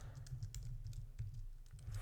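Rapid, close keystrokes on a computer keyboard, a quiet irregular patter of clicks with no voices.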